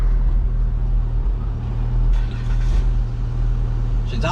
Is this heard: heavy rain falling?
no